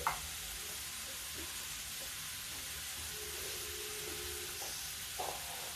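Asafoetida (hing) drops into hot oil already holding fennel seeds while tempering for whole masoor dal, giving a soft, steady sizzle and hiss that runs throughout with a few faint clinks and no voices.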